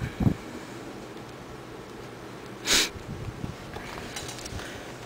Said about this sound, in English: If I'm sniffing a lot, sorry, my allergies are really bad.